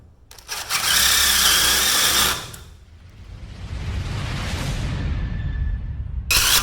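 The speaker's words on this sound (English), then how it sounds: "gotta drill out the track to hang it to the ceiling" A power drill bores through a steel garage door track on an 18x9 flush panel door install, two loud close bursts of whirring, the second building into a long grinding push before a final quick burst.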